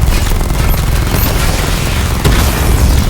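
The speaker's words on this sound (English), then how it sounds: "Missile barrage level 1 ready." Dense, continuous rumbling barrage of explosions and booms from a missile strike in the Batman Arkham Knight video game, loud and unbroken throughout, with one sharper blast near the end.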